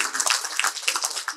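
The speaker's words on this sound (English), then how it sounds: "I think we all deserve to give ourselves a round of applause" Audience at a book launch giving a round of applause, a steady wash of many hands clapping at close range, brief and even.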